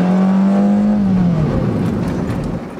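Honda Freed on a test run, its engine humming loudly and rising in pitch before the tone drops into a rushing roar as the car accelerates away, no talk.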